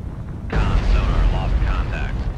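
A torpedo strikes the Kazbek ship in the Cold Waters naval game, a sudden loud explosive boom that rumbles on with tonal mechanical overtones for about two seconds.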